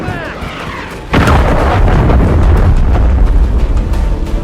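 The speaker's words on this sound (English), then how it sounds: "Grenade out! Friendly cruise missile deployed." A heavy, booming blast from a grenade or cruise missile in Call of Duty MW3 erupts loudly about a second in, followed by a sustained roaring rumble with crackling debris and scattered distant pops.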